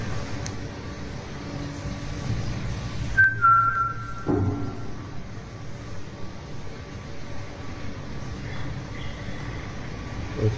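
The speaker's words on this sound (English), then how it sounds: "the guard attempts to catch the sounds on camera by whistling himself" A person whistles a couple of short high notes against a steady rumbling background, fairly faint and brief.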